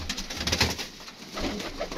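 Pigeons, including blue birds with red eyes, cooing in a loft in soft, repeated low murmurs, fairly close, with a rustling background and no talk.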